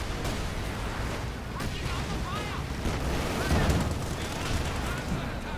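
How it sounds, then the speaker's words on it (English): Incendiary artillery barrage in Company of Heroes 2, a dense continuous rumble of blasts and crackling fire with whistling shells overhead, loud and sustained, with a voice talking over it. "Where's that incendiary artillery coming in?"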